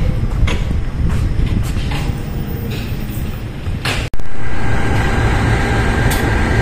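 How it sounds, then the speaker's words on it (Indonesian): A CC201 diesel locomotive with train wagons at an Indonesian station during shunting: a loud, steady engine rumble throughout, broken by a sharp metallic jolt partway through, with a high squeal near the end. "Lokomotif dinasnya CC2018353 milik Depo Indo Jember. Posisi long hood"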